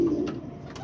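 A pigeon gives a short, soft low coo close by, with a faint murmur of background noise.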